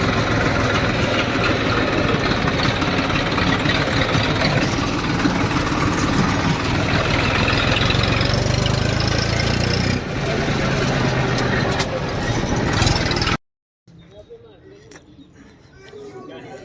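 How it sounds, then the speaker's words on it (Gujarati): A tractor engine idles with a steady, loud low-frequency rumble and vibration for most of the stretch, then cuts off abruptly, leaving only faint background sound. "આ છે મારા કાકા જે ટ્રેક્ટર ચલાવે છે।"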